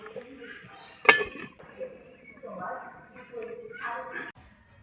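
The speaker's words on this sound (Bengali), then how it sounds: "এবার ঢাকা দিয়ে দেবো।" Metal lid set onto a cooking pot of chicken stomach curry with potatoes, one loud clattering clink near the start followed by lighter kitchen clatter, with someone talking over it.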